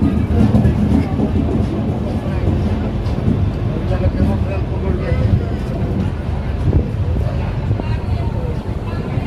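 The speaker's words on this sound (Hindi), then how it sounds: "सामने खड़ी हुई है साबरमती एक्सप्रेस।" Sabarmati Express standing at a station platform, a loud, steady rumble of rail noise and wind running unbroken through the whole stretch.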